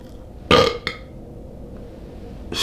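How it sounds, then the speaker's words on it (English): A man lets out a loud, close burp, followed by a shorter second burp and then another starting at the end, with quiet room noise between. "I'm burping like a motherfucker, bro."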